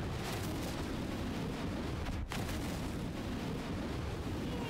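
A flamethrower in the VR game Hot Dogs, Horseshoes & Hand Grenades fires as a steady, dense roaring whoosh that fills the whole stretch, broken only by a split-second dropout midway.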